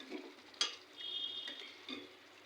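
Bitter gourd (karela) fries quietly in a pan, a soft sizzle broken by a sharp clink and light scraping of a utensil.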